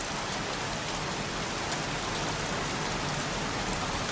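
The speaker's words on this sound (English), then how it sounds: "Goddamn rain." Steady, heavy rain pouring down, a dense continuous wash of patter with no pauses or voices.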